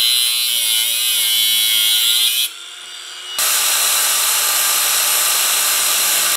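A power tool cuts through a bolt clamped in a vise during fabrication of a Porsche engine cradle, a loud continuous grinding whine that drops briefly then resumes at full strength before stopping abruptly.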